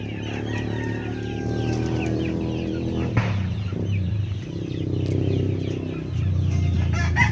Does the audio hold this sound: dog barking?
no